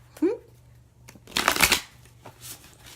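Oracle cards being shuffled by hand, a short riffle early on and a louder, denser burst of card flutter in the middle, close and crisp over a low steady hum.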